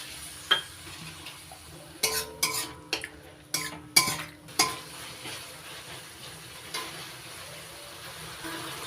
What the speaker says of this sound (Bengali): এবার দিয়ে দিচ্ছি মশলা বাটি দেওয়া জল।